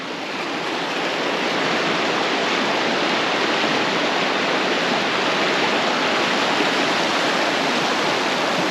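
A river at Calaveras Big Trees in winter rushes steadily, producing a loud, close, continuous broadband roar of flowing water with no voices.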